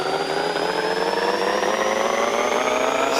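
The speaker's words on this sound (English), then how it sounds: "let's go ahead and run this thing on the dyno, see what it'll make" A twin-turbo Nissan 350Z in Pixel Car Racer revving hard on a dyno, a steady, loud, high-pitched engine howl that climbs slowly in pitch with a turbo whine on top, heard alone without talk.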